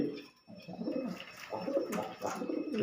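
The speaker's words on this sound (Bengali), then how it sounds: "পায়রাগুলো সব বিক্রি আছে।" Several pigeons kept for sale, including Sira and Green Ice breeds, coo in overlapping, rolling murmurs, a steady low burble that swells and dips for a few seconds.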